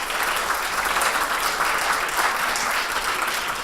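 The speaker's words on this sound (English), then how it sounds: "Let's give them a big round of applause." An audience breaks into enthusiastic applause after a talk, thick continuous clapping heard close and even throughout.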